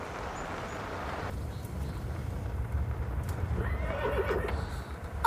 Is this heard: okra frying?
no